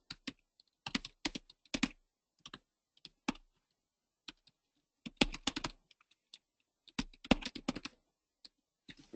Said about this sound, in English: I type in my email address